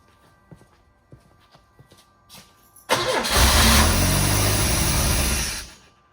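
A project car's engine cranks and fires up, then runs loudly and steadily for about three seconds before dropping away, after faint clicks and shuffling noises.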